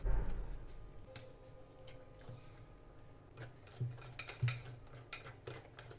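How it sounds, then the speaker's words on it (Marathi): A spoon stirs gulgule batter made with jaggery and flour in a bowl to break up lumps, giving soft scraping and intermittent clinks against the vessel, faint and close, with a few sharper taps. "एकसारखं हलवून गाठी फोडून घ्यायचे"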